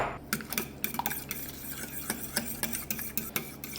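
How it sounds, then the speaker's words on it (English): Egg being mixed into spice bun batter in a bowl, a run of quick repeated stirring and scraping strokes with light utensil clicks, close and moderately quiet, no voices. "Add the egg in and you're gonna mix it up."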